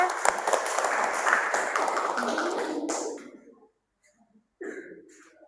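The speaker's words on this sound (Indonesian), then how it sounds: "Oke, beri aplaus untuk kelompok C." Classroom applause for a student group, continuous clapping from many people that tapers off after about three seconds, then a quiet gap and a brief voice.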